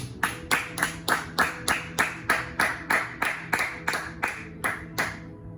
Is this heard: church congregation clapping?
yes